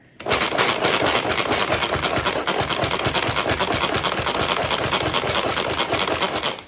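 Manual pump chopper chopping tomato quarters for salsa, a fast steady rattling chop repeated many times, loud and close, with no speech.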